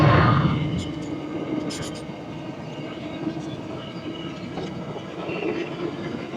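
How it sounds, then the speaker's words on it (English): A big freight train rolls past on the tracks near Werribee and Melbourne, with a loud, broad rumble and rattling wagons. Faint squeals and clicks come through, and the opening burst eases into a steady roar. "one of the big freight trains."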